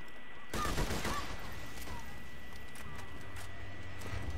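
Dahl SMG gunfire from the video game Borderlands 2 opens with a loud, rapid burst of shots. It is followed by quieter, scattered pops and game noise.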